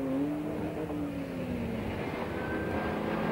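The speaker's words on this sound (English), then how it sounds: "The Lister Storm coming up behind the equally smoky Ascari TT" Lister Storm and Ascari TT GT race cars at speed during a 1997 British GT Championship round at Donington, a steady loud engine drone with a rising whine as they pass, no talk.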